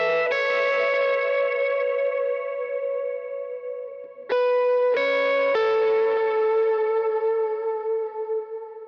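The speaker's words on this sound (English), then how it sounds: "the guitar part comes in halfway and plays this little lick that sounds like this" A short electric guitar lick drenched in delay and chorus effects, a few sustained ringing notes, a brief pause, then another phrase that rings out and fades, played alone.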